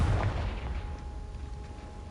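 The Confringo blasting spell in Hogwarts Legacy goes off as a single heavy, booming burst, followed by a dull rumbling decay.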